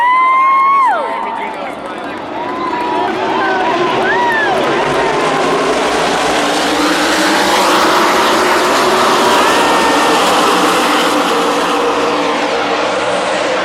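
Loud, continuous roar of race cars sweeping past at a race track, with a crowd cheering and whooping over the engines for the whole stretch.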